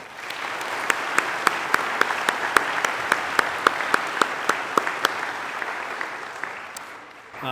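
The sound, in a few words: audience applause at chapel program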